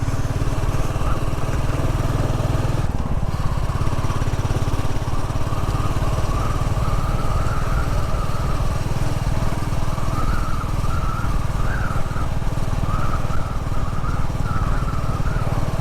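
A Royal Enfield 350 Classic motorcycle being ridden through countryside, a loud steady engine drone with wind rush heard from the rider's position throughout.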